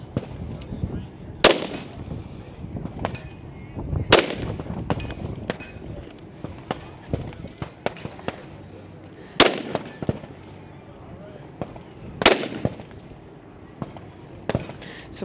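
Gunshots on a 2024 Nationals men's elite shooting competition stage, fired over and around a barricade: sharp loud cracks in irregular bursts, several spaced shots with quieter gaps, heard over a low background murmur.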